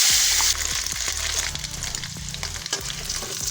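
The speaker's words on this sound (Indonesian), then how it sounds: "lanjut kita goreng ikan terinya." Small anchovies (ikan teri) frying in hot oil in a home kitchen, a steady close sizzle and crackle with occasional stirring scrapes and clinks, no voices.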